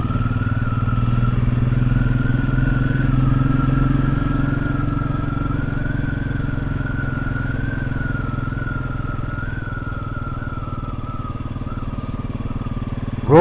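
A Royal Enfield Classic 500 motorcycle on tour along a road in Galicia, Spain, its engine holding a steady, loud, low thrum with a droning whine above it while the bike is ridden.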